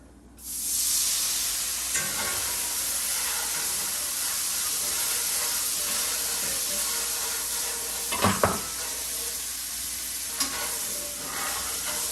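Lemon juice hitting hot chicken in a pan sets off a sudden loud sizzle that holds steady, with a few utensil scrapes and clinks from stirring partway through.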